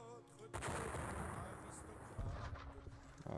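Artillery guns firing in the John Tiller Napoleonic Series game, a booming report that swells at once and rumbles on, a second thump following toward the end, with no talking over it.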